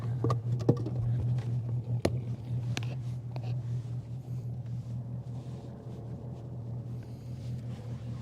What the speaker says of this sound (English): our engine started.